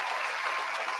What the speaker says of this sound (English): Round of applause for y'all tuning in